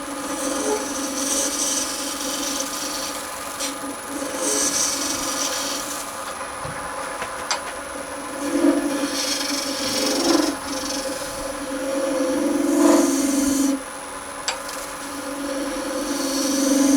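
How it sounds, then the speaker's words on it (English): A skew chisel cuts epoxy resin spinning on a wood lathe, giving a continuous scraping rasp with a few brief swells and sharper catches over the motor's steady hum. Nobody speaks. "the better cut we can get off the skew, the less sanding we'll have"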